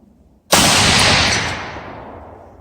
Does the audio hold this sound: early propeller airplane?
no